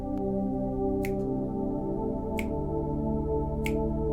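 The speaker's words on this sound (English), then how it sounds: "There's also the sound of a drop," Soft, sharp drip-like clicks land at slow, even intervals, three in all, over a steady low droning pad.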